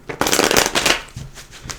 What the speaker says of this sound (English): I'm going to grab a tarot deck. I did pre-shuffle this, but I want to shuffle a little bit now that I've been in your energy.